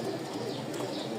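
Rajshahi Giribaz pigeons cooing softly in a loft, the low murmuring coos running steadily and fairly faint beneath broadband background noise.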